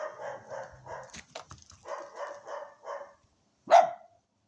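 A Newfoundland puppy growls in a series of short rhythmic bursts, then lets out one sharp yip after a brief pause.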